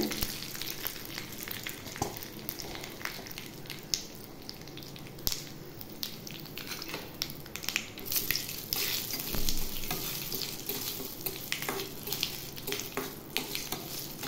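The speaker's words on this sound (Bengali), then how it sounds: "ব্যাটারের জন্য তড়কা তৈরি করে নিই। দিয়ে দিলাম কারি পাতা, কিছুটা সর্ষে ফোড়ন দিয়ে" Curry leaves and mustard seeds tempering in hot oil for idli batter, a steady close crackling sizzle with sharp pops and spits throughout, no talking.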